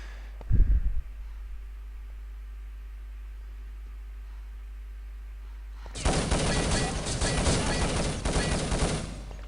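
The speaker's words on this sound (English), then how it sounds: "Long range LR300 being used very nicely by Exotic" In a team-based online shooter match, a single sharp report sounds early on. After a long quiet stretch, a loud, sustained burst of LR300 rifle fire rattles on without a break until the end.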